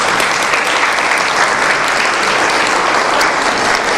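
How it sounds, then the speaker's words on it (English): An audience applauds a choir after a performance, steady dense clapping at full volume throughout with no voices over it. "how about another round of applause for our choir for performing today."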